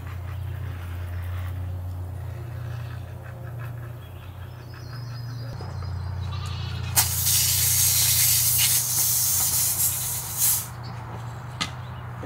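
A loud, broad hiss of a garden pump sprayer, apparently broken and unable to hold pressure, spraying in bursts, starting after a stretch of low mechanical hum and cutting in and out near the end.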